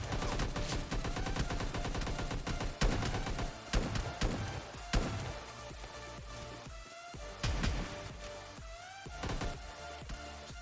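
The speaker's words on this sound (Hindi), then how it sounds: "फिर इसको 2 शॉट में मार देता हूँ" Shotgun blasts from the PUBG Mobile Lite game ring out in a dense, loud burst of gunfire, with several sharp shots tapering into scattered reports, no talk over them.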